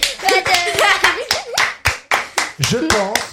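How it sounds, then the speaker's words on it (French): A primary-school class claps for a pupil, a run of sharp, uneven hand claps close by and fairly loud, mixed with children's voices talking and calling out over the applause. "On peut l'applaudir"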